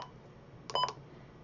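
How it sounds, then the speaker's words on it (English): A Midland weather alert radio gives a single short, faint electronic button beep in an otherwise quiet room. "if you don't like the button beeps,"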